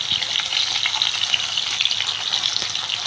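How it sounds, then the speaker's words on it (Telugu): Drumstick (moringa) pieces fry in a pan over a low flame, giving a steady, close, even crackling sizzle that holds throughout without any talking. "ఇంకొక నిమిషం సిమ్లో వేయిస్తున్నానండి. ఇవి హైలో పెట్టట్లేదు, ఫ్లేము సిమ్లోనే వేయిస్తున్నాను."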